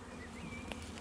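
Honeybees buzz at a hive with an open entrance, a faint steady drone with a brief wavering tone of a single bee passing nearby.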